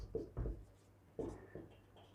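Writing on a board during a reasoning lesson, a few short scratchy strokes in two separate bursts, soft and close, with quiet pauses between.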